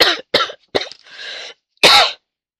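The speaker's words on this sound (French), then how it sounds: "Vraiment désolée, je tousse." A woman coughs in a close, loud burst of several hacking coughs, then pauses and gives one final cough.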